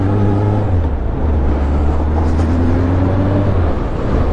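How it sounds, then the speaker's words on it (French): A manual car is driven with the clutch released abruptly, a loud, close engine drone with a low steady hum that drops in pitch and holds, continuous throughout with no voices. "Ce qu'il ne faut pas faire vers le bas, mais surtout pas, c'est lâcher d'un coup l'embrayage."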